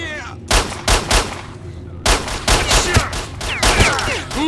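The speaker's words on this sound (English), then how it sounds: "I shot that guy in the head and he didn't do anything." Rapid gunfire in the video game S.T.A.L.K.E.R.: Shadow of Chernobyl, a burst of loud close shots in quick irregular succession followed by further shots and whizzing effects.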